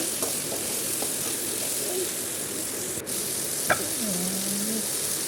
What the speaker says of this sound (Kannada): ಹೆಚ್ಚಿ ಅದನ್ನು ಸ್ವಲ್ಪ ಎಣ್ಣೆ ಒಳಗಡೆ ಹಾಗೆ ಫ್ರೈ ಮಾಡೋಣ